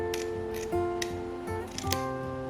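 Scissors snip the folded ends of ribbon at an upward angle while a bow is being made: several crisp cutting clicks in quick succession, close and moderately loud.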